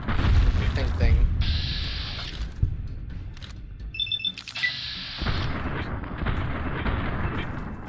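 Pistol gunfire from a 10mm handgun in the video game Fallout New Vegas, a few sharp loud shots mixed with in-game effects and mechanical clicks, with someone talking over the action.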